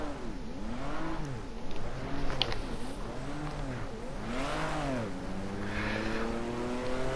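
Engine of Ayrton Senna's Lotus Formula 1 car in a racing video game, a loud high-revving whine rising and falling through repeated gear shifts, steady and continuous with no talk.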